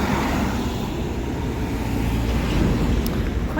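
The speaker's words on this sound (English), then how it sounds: "Quite surprised by the amount of cars that are out today" Steady roar of cars driving along a downtown Halifax street in December, continuous rumbling traffic noise passing close by with no talking.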